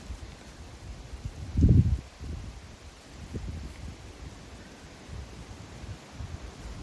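Wind buffets the microphone in low, uneven rumbling gusts on a cold walk among oak trees, with one stronger blast early on and a steady rushing noise throughout.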